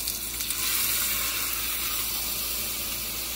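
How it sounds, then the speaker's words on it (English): Pork searing in a hot pan, a steady, close hiss and sizzle that holds evenly for a few seconds with a slight swell near the start, no talking. "Hold it on the ends, get the entire thing seared."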